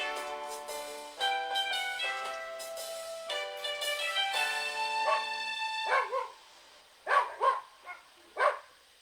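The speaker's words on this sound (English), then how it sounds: "barking dogs" Several loud, tonal dog barks ring out in a drawn-out run, followed by a few sharp, separate barks near the end.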